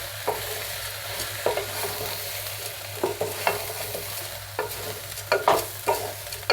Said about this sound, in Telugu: అన్నీ ఒక రెండు నిమిషాలు వేయించుకుందాము